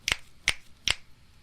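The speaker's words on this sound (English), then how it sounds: "by snapping, you make a sound. Your fingers snap." Fingers snap three times in an even rhythm, each snap a sharp, close, crisp click with quiet pauses between them.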